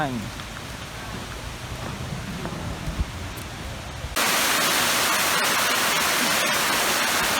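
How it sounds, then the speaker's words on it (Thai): Mae Kampong waterfall in Chiang Mai, Thailand, rushing water that starts as a softer wash and then turns abruptly into a loud, steady, broadband roar close by. "ตอนนี้เราถึงน้ำตกแม่กำปองแล้วนะครับ"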